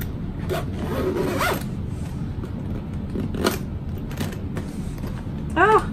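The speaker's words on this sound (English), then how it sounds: "unzipping it, unclipping it" A zipper on a sewn fabric barrel bag is pulled open in a few short rasping strokes, close and fairly quiet, with a brighter zip near the end over faint room noise.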